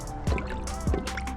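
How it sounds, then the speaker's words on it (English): Coolant gurgles while filling the radiator of a right-hand-drive station wagon, two deep glugging bubbles about half a second apart over a low liquid trickle, close by. "Let that gurgle"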